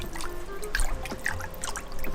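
Washing machine fabric softener poured into a water-filled washing basin, a steady close trickle and splash of liquid running into water with small bubbling pops, heard alone.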